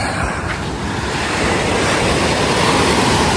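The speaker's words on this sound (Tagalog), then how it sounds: "Lakas ang alon eh, no?" Loud, continuous rushing surf with strong waves crashing nearby at a tidal pool in Casiguran, Aurora, mixed with heavy wind buffeting the microphone, no voices.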